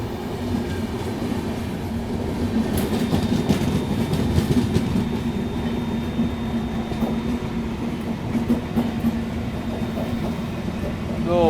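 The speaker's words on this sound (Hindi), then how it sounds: "बगल से क्रॉस हो रही है अवध असम एक्सप्रेस।" The Avadh Assam Express passes close alongside a moving train, with a continuous loud rumble of wheels on rails, rattling carriages and occasional metallic squeals over steady track noise.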